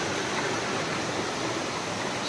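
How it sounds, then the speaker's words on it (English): Fresh river water in rural Northeast India rushing steadily, a dense, even broadband roar with no breaks, close and fairly loud, no voices. "Guys, look at the freshness of this river."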